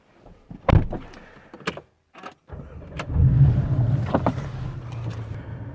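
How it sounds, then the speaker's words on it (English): A 2018 Porsche 718 Boxster GTS is started: a few clicks and a brief whir, then the engine catches and settles into a steady close idle rumble. "Okay, so I've just started the car."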